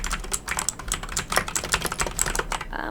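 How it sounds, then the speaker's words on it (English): Rapid, uneven clicking keystrokes from Razer green switches on a Razer BlackWidow 2019 mechanical keyboard, crisp, close and steady for about three seconds with no voices. "Let's have a listen to the Razer green switches. This is very clicky and tactile"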